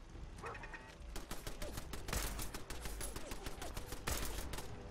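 Gunfire in Fallout 4 from the player's weapon and a turret, rapid bursts of shots with several sharp loud cracks standing out, steady and fairly close, with no talk.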